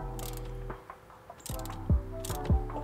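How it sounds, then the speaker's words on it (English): Ratchet driving a T30 bit on a steering wheel bolt, with several bursts of close, sharp clicking and a few metallic knocks. "your best bet is to get the T30 on a ratchet"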